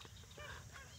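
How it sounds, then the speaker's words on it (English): Magpie geese honk briefly and faintly in the wild wetland outback at dusk, a short nasal call lasting about a second over low background rumble. "Oh, wow, there's magpie geese."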